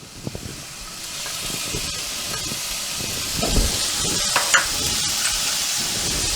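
Green, yellow and red capsicum sautéing in a pan over a slow flame, giving a steady soft sizzle and hiss with occasional stirring clatters and brief louder bursts, no one talking.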